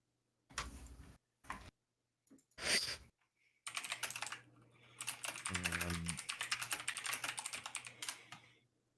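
Clicky mechanical keyboard typed in short separate bursts, then a longer rapid stream of sharp close key clacks, with a brief low hum partway through and no talking.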